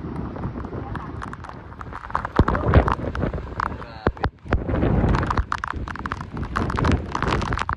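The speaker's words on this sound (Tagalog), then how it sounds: "Lakas ng hangin. Grabe yun." Strong typhoon wind roars and gusts against the microphone, loud and continuous, with sharp buffeting thumps and rattles. A voice is heard under the noise.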